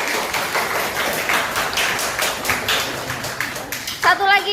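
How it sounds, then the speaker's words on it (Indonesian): Classmates in a school classroom clap for a student, a lively, steady burst of many hands over a few seconds, ending as a voice begins speaking. "Tepuk tangan untuk Dea"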